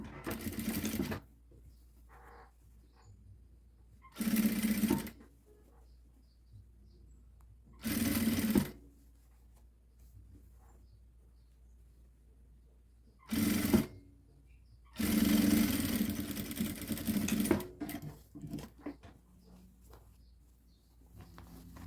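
Sewing machine topstitching a children's outfit, running in five short bursts of rapid stitching separated by quiet pauses, the final run longest, close and clear with no talk.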